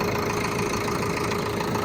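An overhauled YTO NLX1054 tractor engine idles steadily nearby, a smooth, even mid-pitched drone with a faint steady tone and no variation in speed, heard alone without talk.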